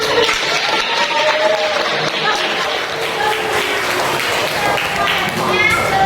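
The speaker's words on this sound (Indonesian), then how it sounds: "bagus sekali tepuk tangan" A classroom of children claps together during a counting song about ducks and chickens, brisk clapping mixed with young voices and chatter, loud and close.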